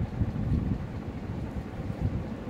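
Wind rushes past a moving bus heading toward Digha, heard from inside as a low, steady buffeting roar with gusty rises and dips.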